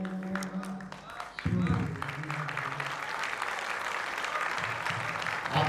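An audience breaks into loud applause, with quieter clapping and speech at the start before a sudden swell of sustained clapping that fills the rest of the moment.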